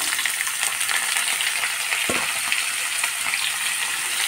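Pumpkin frying in hot oil with cumin, fenugreek, mustard seeds, carom seeds, asafoetida and dried red chillies, a steady close hissing sizzle with a brief stir or clink partway through.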